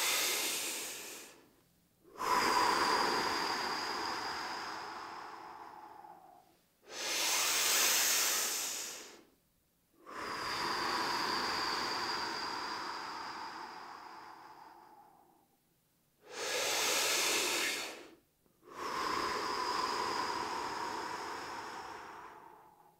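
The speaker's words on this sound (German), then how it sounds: "wir atmen dreimal zusammen. Atme dabei wirklich tief." Slow, deep breathing exercise: three long, loud inhales through the nose or mouth alternate with shorter hissing exhales, close to the microphone, evenly paced and with no talking.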